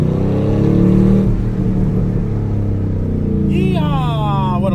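Chevrolet Camaro Dark Horse engine revving loudly up close, a steady low rumble that swells early then holds, with a voice speaking over it near the end.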